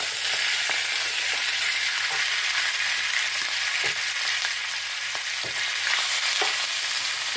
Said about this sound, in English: I should have that sort of frying noise